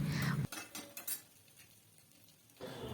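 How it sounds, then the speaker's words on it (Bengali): Deboned fish pieces stirred with ground spices in a pan for fish chops: a few clinks of a spatula against the metal pan, with soft scraping and a faint sizzle between them. "মাছগুলোকে দিয়ে দিয়ে ভালোভাবে কষিয়ে নিতে হবে"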